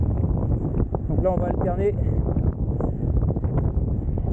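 Strong wind buffets the microphone while riding a gravel bike along forest tracks, a steady low roar that runs throughout under a man's spoken French.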